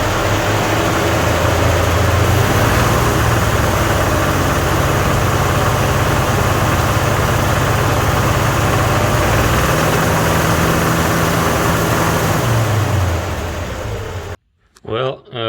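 Budget-swapped inline-six engine in a 1966 car, running loud and close with a low, steady drone that rises and falls in revs a couple of times, then cuts off near the end as a voice briefly speaks.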